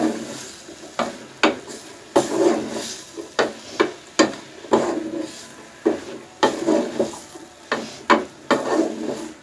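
Black chana (chickpeas) with tomatoes being stirred and mixed in a pan, a spoon scraping and knocking against the metal in a steady series of rhythmic strokes over a soft sizzle, close and fairly loud, with no talking.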